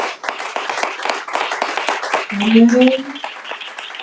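A church congregation claps in acclaim of the Lord during an Easter service, a steady dense patter of many hands, with a loud voice calling out partway through.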